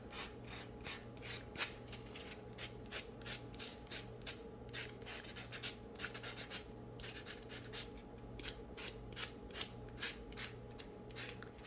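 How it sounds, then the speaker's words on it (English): Fingernails are buffed with a nail buffer in quick, repeated soft rasping strokes, close and fairly quiet over a low steady background hum, with no talking. "But I do like to kind of buff them with the cuticle on"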